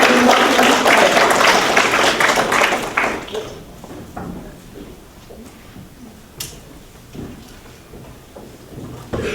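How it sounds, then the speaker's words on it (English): An audience at an artist talk applauds to welcome a speaker, with loud dense clapping that fades to scattered claps and quiet room noise. "So please give me a round of applause."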